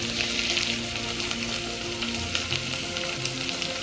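Food frying in a pan for a tomato rice dish, giving a steady close crackling sizzle throughout with faint occasional stirring.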